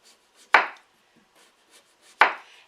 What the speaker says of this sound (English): we're going to start by slicing some potatoes